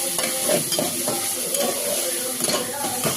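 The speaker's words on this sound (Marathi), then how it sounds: "चांगला हलवून घेऊया। त्याला तेल सुटेपर्यंत हलवून घ्यायचे बरं का।" Frying masala of onion, tomato, ginger, garlic and coriander being stirred in a pan for egg biryani, with a steady close sizzle and repeated scraping strokes of a spoon across the pan, no talk.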